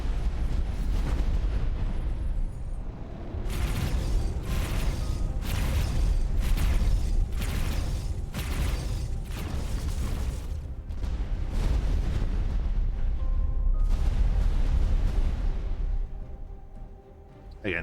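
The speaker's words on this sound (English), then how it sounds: "New explosion effects." Weapon explosion effects in the space game X4, with a rapid series of loud, heavy booming blasts repeating roughly every second, then tapering into rumbling mechanical ambience.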